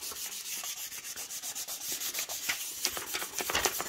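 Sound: rubbing a furniture transfer down through its backing film

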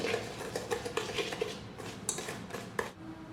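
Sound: mixing sunflower oil into brownie batter in a bowl

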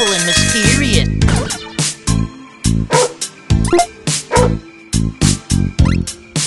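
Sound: dog barking in Teeny Titans video game

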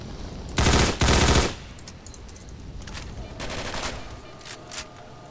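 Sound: gunshots from a jamming gun in Call of Chernobyl video game

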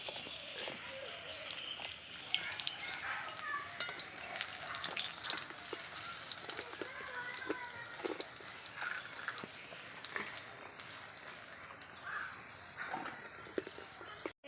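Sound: shrimp-shell fritters (bora) frying in oil

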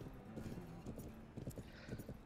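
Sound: horse hooves clip-clopping in video game Planet Horse

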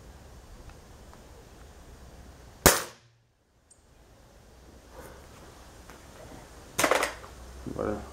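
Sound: air gun shot

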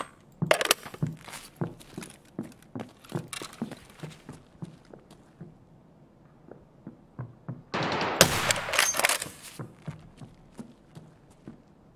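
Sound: gunfire in Escape From Tarkov, video game

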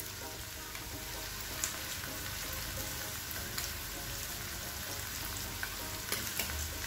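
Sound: Schezwan chutney cooking in a pan

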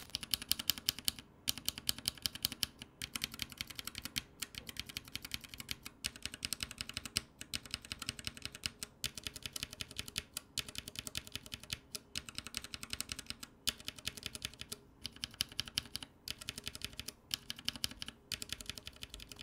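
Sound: mechanical keyboard typing with Glorious Panda tactile switches

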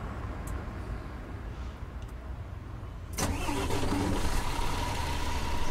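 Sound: coach bus engine starting, from video game Fernbus Simulator

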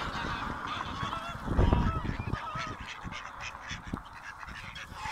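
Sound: ducks being fed at Abberton Reservoir

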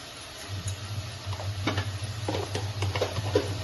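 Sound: masala with turmeric stirred in a hot pan

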